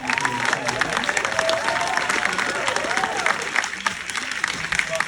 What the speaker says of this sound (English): Can I get a round of applause for this?